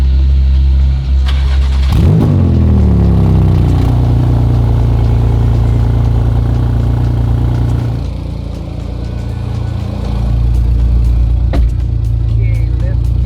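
A Chevrolet Stingray C2 Corvette's engine warming up, settling into a deep, loud, rumbling idle after a quick rev that swoops up in pitch, then dipping briefly and returning, close enough to overload the microphone, with a voice talking over it.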